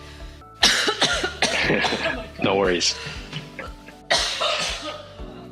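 Several harsh coughs during an indoor conversation, bursting in short clusters between stretches of talk, with a brief spoken phrase in the middle.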